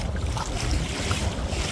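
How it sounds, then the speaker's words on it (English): Water splashes steadily from a paddle stroking fast on a windy day on the water, a dense, close wash of spray and rushing noise mixed with gusting wind buffeting the microphone, with no talking. "as soon as you speed up, it's just full splashes to the torso"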